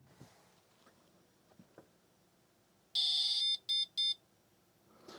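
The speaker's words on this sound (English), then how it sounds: "we had some beeping coming out of the CPU" A few soft clicks and taps, then a loud electronic beep followed by two shorter beeps in quick succession from the computer unit of a Lucas Deeco ST3220 touch screen terminal at power-up.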